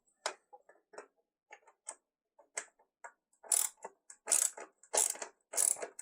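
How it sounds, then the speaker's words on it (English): Ratchet wrench clicking in short bursts while tightening the bolts of a Pit Bull helmet and gear holder, the clicks sparse at first and then quicker, louder and closer in rapid strokes near the end, with no talk. "we're back with the ratchets"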